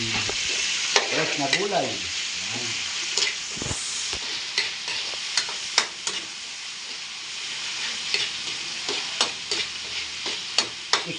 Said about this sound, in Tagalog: Lagay na po natin ang Argentina corned beef.